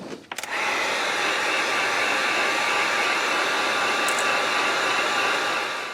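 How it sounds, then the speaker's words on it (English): A heat gun blasts steadily for about six seconds, drying fresh paint before a wrap is peeled off; a loud, even broadband roar starts after a few brief clicks and holds nearly constant throughout, with no voices. "now we're going to dry this really good with the heat gun"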